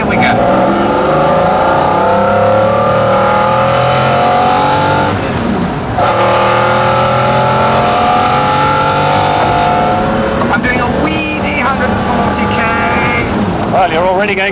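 A McLaren F1 supercar pulls hard from second gear, its engine note climbing in loud, steady rising sweeps with a brief shift dip, while people talk over the roar inside the cabin.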